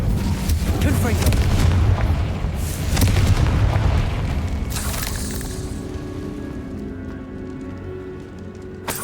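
Confringo spell blasts in the Hogwarts Legacy video game on PS5, several booming explosions with crackling debris in quick succession, then fading to a quieter rumble with a faint voice.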